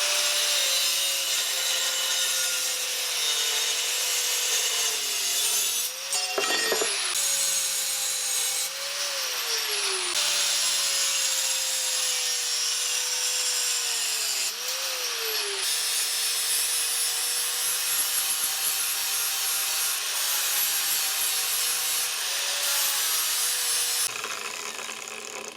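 Metal tanto knife blank being sawn out by hand, a steady broadband rasp of strokes running almost continuously, loud and close, with a few brief pauses and no voices.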